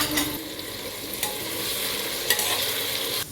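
Sliced onions frying on high flame with sugar and salt for mutton biriyani, a dense steady sizzle broken by a few spatula scrapes and clicks, close up and without speech.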